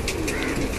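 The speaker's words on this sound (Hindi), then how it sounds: "एक से एक कबूतर है सारे कल्दू में" A brief, close burst of pigeon cooing, soft throaty murmurs over a busy background.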